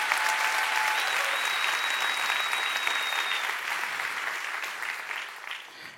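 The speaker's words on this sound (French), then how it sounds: "On peut les applaudir?" An audience applauds at a French Christian talk event, loud, dense clapping with some cheering that holds steady and then slowly fades toward the end.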